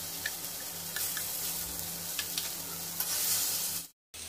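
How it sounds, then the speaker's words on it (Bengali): Potato, eggplant and tomato fry in a pan with salt and turmeric, a steady close sizzle with light stirring scrapes, swelling slightly before cutting off briefly near the end. "এবার আমি টমেটোটা দিয়ে দিচ্ছি। এই সময় লবণ দিয়ে দিচ্ছি, হলুদটাও দিয়ে দিচ্ছি।"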